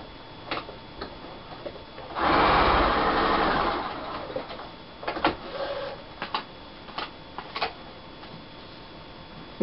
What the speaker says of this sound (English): And again to the sewing machine.